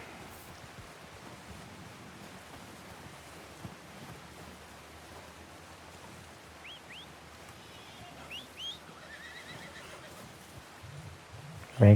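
A horse in Red Dead Redemption 2 gives a few short, moderately faint whinnies midway through, over a soft steady wash of rain and low rumble, ending with a sudden thump.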